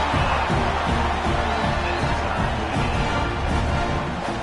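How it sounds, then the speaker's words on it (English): A football stadium crowd at a BYU game cheering after a successful extra point ties the score, a dense, steady roar of many voices that fills the whole stretch. "this crowd is buzzing after that last score"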